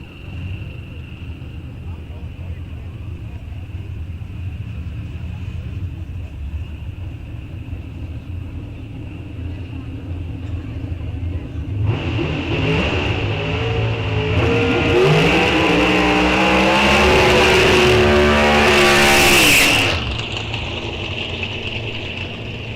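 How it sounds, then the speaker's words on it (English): Pro Stock drag race cars doing burnouts at Rock Falls Raceway during an NHRA National Open: a steady engine roar that swells into a loud, high-pitched screaming burst near the end, with announcer talk over it. "Another couple of good burnouts by these drivers."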